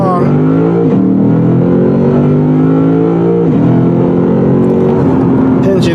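A Lexus RC-F V8 in Sport Plus mode accelerates hard through the gears, its loud engine rising in pitch, dropping briefly at each shift, then climbing again, heard close from the cabin.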